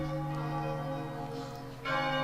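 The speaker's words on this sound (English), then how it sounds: "Ring far and wide, O bell of oblivion" Bell of Oblivion ringing in the video game Chocobo's Mysterious Dungeon, a sustained, resonant church-like toll with rich steady overtones, fairly soft, swelling as a fresh strike lands near the end.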